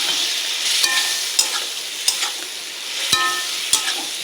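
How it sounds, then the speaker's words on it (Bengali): Boiled potatoes are stirred and fried in oil in a pan, with a steady sizzle broken by sharp scrapes and clanks of a spatula against the metal every half second or so. "ভালো করে কষে নেবো আলু।"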